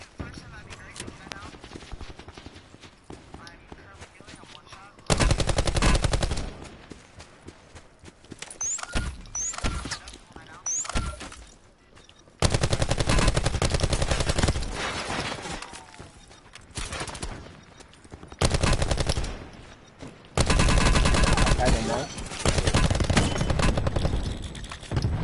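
Gunfire from a sniper in a first-person shooter video game: loud bursts of shots arrive in several spells over steady game ambience, with quieter stretches between them.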